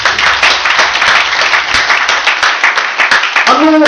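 Church congregation applauding God, a dense burst of loud clapping that runs the whole time, with a few voices and a brief tone near the end.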